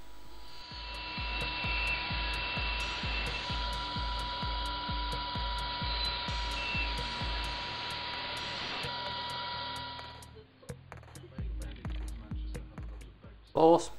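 A bandsaw cuts wood for a traditional casement window, giving a steady, close mechanical whine with a regular thumping pulse for about ten seconds. It then winds down into scattered handling knocks and clatter.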